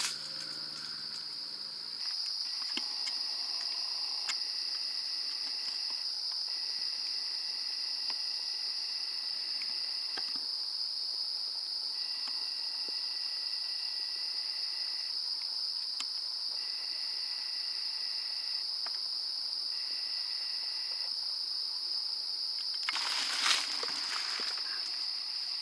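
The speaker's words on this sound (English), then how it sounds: "I hear the crickets" Crickets chirping at night in a swamp, a steady high continuous trill that runs loud and unbroken throughout, with fainter pulsing insect calls layered beneath and a brief rustle near the end.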